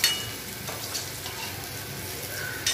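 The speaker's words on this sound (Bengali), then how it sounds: "এই দেখো মাছগুলো বেশ ভালো করে ভাজা হয়ে গেছে," Fish fry in hot oil with a steady, close sizzle throughout, occasional stirring or utensil scrapes, and no talking.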